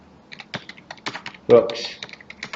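Rapid typing on a computer keyboard, close and clear, with quick uneven bursts of key clicks and one heavier thump like a spacebar or enter key midway, faint talk under it.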